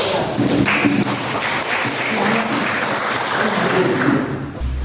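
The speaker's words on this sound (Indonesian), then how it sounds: "Beri aplaus kepada kelompok" An audience applauds a presenting group after a classroom presentation, dense and fairly loud clapping that fills the room steadily and then fades at the end.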